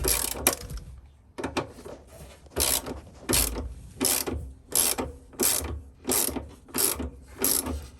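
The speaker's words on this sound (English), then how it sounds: "we want to get our wrench, and we'll take this old motor off" A ratchet wrench loosens the old motor on a Samsung ecobubble washing machine, giving close, repeated bursts of rapid clicking separated by short pauses, with no talking.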